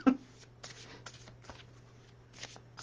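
Playing cards are shuffled by hand for a card reading, giving a series of brief, faint riffles and taps at irregular intervals, close by and quiet over a low room hum.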